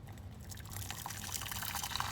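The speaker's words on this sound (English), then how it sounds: "First step is to add some hot water to a pot or a saucepan." Hot water poured into a pot or saucepan in a home kitchen, a steady splashing, trickling stream lasting about two seconds, close and fairly quiet with no talking.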